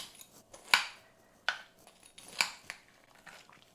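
A spoon scraping and clinking into baked apple crisp with a maple walnut crumble in a metal pan, a few distinct close taps and scrapes with quiet gaps between.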